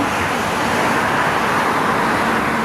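Steady road traffic rushes past close to a pedestrian overpass in Singapore after rain, a continuous broadband wash of car and bus noise with no talk.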